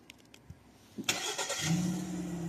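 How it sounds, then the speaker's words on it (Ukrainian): A 2019 Ford Escape 1.5 4WD engine starting by remote start: a few faint clicks, then the starter cranks and the engine catches at about one second, settling into a steady, moderately loud idle hum. "Автомобіль завівся і прогрівається протягом 10 хвилин"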